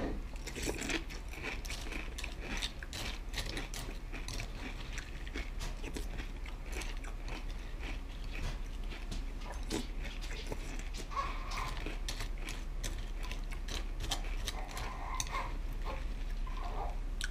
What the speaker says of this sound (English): Frosted Flakes are definitely more crunchy than the oat cereal you get in regular Lucky Charms